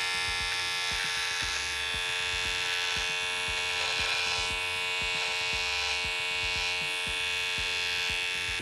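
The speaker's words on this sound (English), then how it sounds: "I usually try to do a little bit of curve, so I'll do the line first. Shave that off." Electric beard trimmer shaving the beard line: a continuous close, loud buzzing hum with slight rhythmic pulsing as it moves over the hair, no talking.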